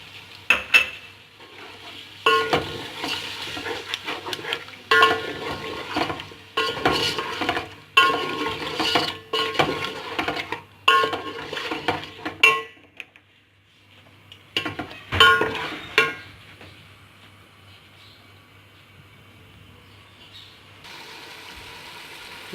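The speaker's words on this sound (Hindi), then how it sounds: "एक कप दही हम डाल रहे हैं।" A cup of yogurt stirred into a chicken and potato curry pot, busy scraping and clinking of spoon on metal over a steady sizzle, pausing briefly midway before stirring resumes.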